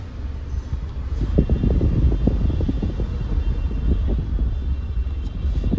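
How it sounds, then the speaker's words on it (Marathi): Steady low rumble and fan-like whir inside a Tata Altroz BS6 car with a CNG fitment and manual transmission, air conditioning running while the engine idles, continuous and even with no talk. "गाडीचा AC ही चालू आहे."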